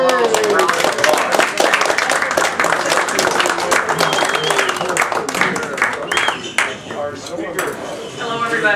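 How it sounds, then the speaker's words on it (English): A crowd applauds with dense, sustained clapping that thins out toward the end, with scattered voices mixed in, at a public meeting on overturning Citizens United. "let's give them a round of applause."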